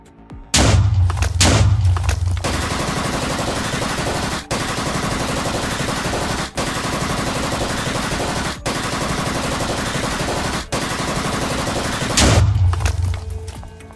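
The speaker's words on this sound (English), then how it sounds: "They started moving, it seems, because you started shooting at them." Gunfire in the Roblox Brookhaven video game: loud, sustained rapid automatic shooting with heavy thumps at the start and end, a dense continuous barrage broken by a few brief gaps, with no talking.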